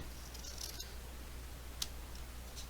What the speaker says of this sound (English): now I'm just going to use my regular scissors